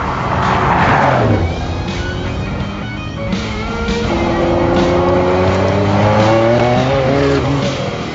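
A modified old car launching hard with wheelspin, tires squealing under a loud revving engine that climbs through the gears, close and continuous with no talk.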